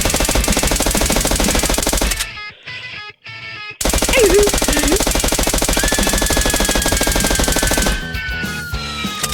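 Rapid machine-gun bursts in a video game, dense and loud with a short pause in the middle, then continued firing and a fading whine near the end.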